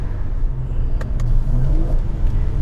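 A Mercedes C43 AMG rolling slowly through the centre of Hale, its engine a steady low rumble from inside the cabin with faint occasional clicks, no voices.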